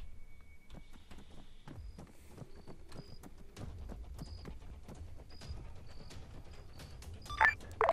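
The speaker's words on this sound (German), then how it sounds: "man hört aber die Schritte, wenn du zu schnell dran läufst" Footsteps sound in the military shooter game Arma 3 as a character runs, a steady series of close, clipped thuds on a hard surface, with a few faint electronic beeps.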